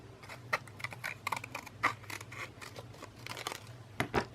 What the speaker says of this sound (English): Let me just cut off this outside part from the napkin